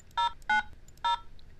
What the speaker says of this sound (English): click on the green call button to dial the number